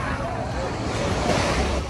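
Ocean waves wash onto a beach in Ksamil, Albania, producing a constant, loud roar of surf mixed with wind buffeting the microphone.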